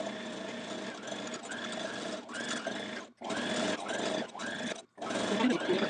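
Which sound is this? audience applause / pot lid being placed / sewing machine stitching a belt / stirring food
sewing machine stitching a belt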